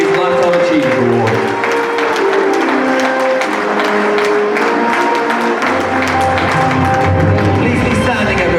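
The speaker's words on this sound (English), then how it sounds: "Please be upstanding, a round of applause to your feet for Türker Şakacı" Audience applause at an awards gala dinner, a loud, dense wash of clapping from a large crowd, with sustained music tones and scattered voices layered beneath it.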